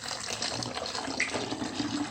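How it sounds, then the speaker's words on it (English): Water is poured through a funnel into a bottle, a steady, close trickling and gushing stream that runs without a break for about two seconds. "pour the water in without it spilling over."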